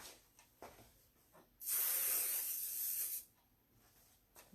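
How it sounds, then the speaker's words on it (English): A can of hairspray being sprayed onto styled hair in one continuous burst of about a second and a half. The hiss is loud against a quiet room and comes between soft handling sounds. "A little extra hairspray"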